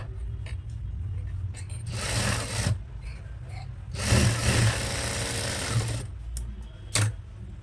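A sewing machine stitches the side seam of a frock nighty in two loud bursts of rapid whirring with quiet pauses between them.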